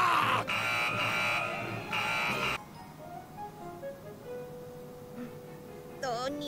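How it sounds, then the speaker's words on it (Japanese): Emergency alarm buzzer in the One Piece anime, a loud harsh pulsing blare in bursts for a couple of seconds, then lower tones and chirps under quieter background sound. "緊急警報だ。"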